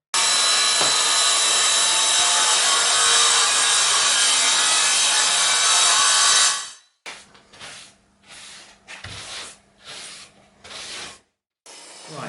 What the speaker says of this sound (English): Use the chop saw because it's quite speedy